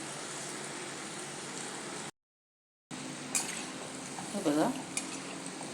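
Small rice and mixed lentil vadas frying in a pan on low heat, a steady soft sizzle with a brief dropout, a few utensil clinks, and someone speaking briefly over it.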